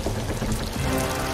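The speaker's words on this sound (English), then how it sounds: "I hear water leaking from somewhere." Water leaking into a ship's hull in the Sea of Thieves video game, a steady pouring, splashing rush with trickling detail, close and continuous.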